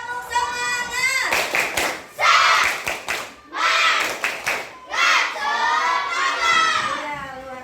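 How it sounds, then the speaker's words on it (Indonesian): Schoolchildren in a classroom perform a rhythmic spirit chant, loud bursts of synchronized clapping alternating with shouted group chanting, close and energetic. "Kita tes dulu, tepuk semangat!"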